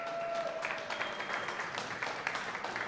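An audience at an esports event for the Crysis 2 final applauds team NewGen with moderate, steady clapping for about three seconds, heard from some distance.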